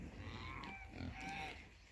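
Baby pigs on a farm grunt in soft, overlapping bursts, close and continuous, with faint noise around them.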